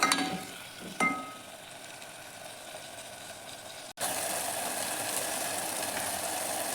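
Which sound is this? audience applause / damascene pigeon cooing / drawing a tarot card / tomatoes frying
tomatoes frying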